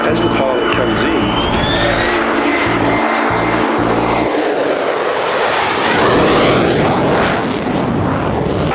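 An airplane flies in at the Avalon Airshow, its loud propeller engine drone rising and sweeping past close by, with a speaking voice over the opening seconds.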